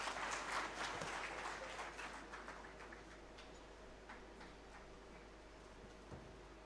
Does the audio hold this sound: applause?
yes